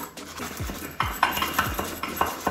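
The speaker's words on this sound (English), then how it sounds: "I'm just going to make a froth here. This is the device that I'm talking about, the manual blender." A hand-operated manual blender whips a drink into froth, giving quick repeated clinking and whirring strokes in an uneven rhythm, close and moderately loud with no talking.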